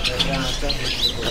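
Chirps and calls of caged green leafbirds (cucak hijau) at a bird market kiosk, short high tweets scattered over steady market din, with people talking nearby.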